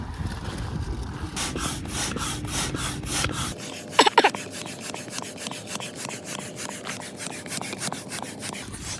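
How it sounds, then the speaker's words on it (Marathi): An air pump inflating an Explorer 300 inflatable river boat, its strokes repeating in a steady rhythmic series of airy rubbing pulses, close and moderately loud, with a brief louder clatter partway through. "आणि आता आम्ही हवा भरणार आहे."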